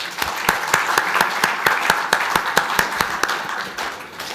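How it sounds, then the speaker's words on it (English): Seminar audience on naval aviation applauds at the close of the event, a steady wash of many hands clapping with sharp individual claps standing out, sustained for several seconds and tapering slightly at the end. "Let us have a big round of applause for the audience."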